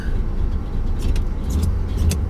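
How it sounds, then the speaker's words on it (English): A pickup truck engine idles steadily just after starting, a low continuous rumble heard up close with faint higher ticks and no talking. "I'm out here in my truck hoping that I just got it started. I'm hoping it stays running."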